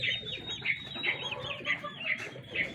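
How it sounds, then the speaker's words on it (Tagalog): Chickens and roosters in a backyard flock make repeated soft clucks in an uneven rhythm. The calls are moderately close and fairly quiet over low background noise. "So yung mga manok natin,"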